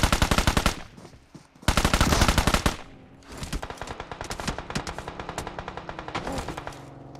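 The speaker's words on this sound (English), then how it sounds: "firing away with that M4 in hand" M4 rifle fire in PUBG Mobile during a competitive match: rapid automatic bursts crackle loud and close, a long burst, a short pause, then another sustained stream of shots with quieter distant fire behind.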